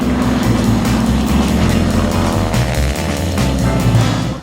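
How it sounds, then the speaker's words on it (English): A 600-horsepower Pratt & Whitney 1340 radial engine on a restored warbird airplane drones steadily and loudly up close, a deep rumbling, throbbing roar that holds constant throughout. "this beautiful Pratt & Whitney 1340 600 horsepower engine has my airplane back in service"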